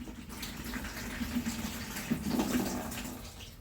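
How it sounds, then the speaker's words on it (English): Two cups of warm water pour into a container, a continuous splashing gush that swells toward the end, close and fairly loud with no talking. "So I'm going to take my 2 cups of warm water,"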